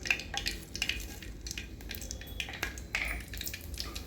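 Mustard seeds and cumin crackle and sizzle in hot oil, a steady frying hiss with scattered sharp pops and spits at close range, with no one talking.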